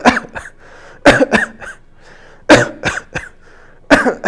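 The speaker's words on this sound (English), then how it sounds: "How long have you had that cough?" Several harsh, loud coughing fits close by, each a burst of two or three coughs separated by short quiet gaps.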